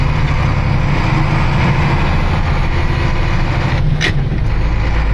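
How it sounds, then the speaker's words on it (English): A wrecker tow truck's engine runs at a steady idle, a loud, deep and even rumble heard up close, with a brief faint click partway through. "That is a healthy motor."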